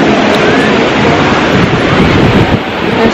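Strong wind at Santa Monica Pier buffets the microphone in a loud, continuous, broadband roar with no talk.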